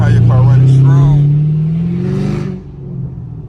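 A 2016 Camaro SS V8 revs hard and loud up close, its engine note climbing as the throttle opens, then easing off and falling away to a low idle rumble.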